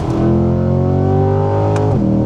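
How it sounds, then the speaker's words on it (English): A C8 Corvette's engine drones loud and steady from inside the cabin, holding a smooth high-revving tone through a downshift before the pitch drops near the end. "It's such a downshift."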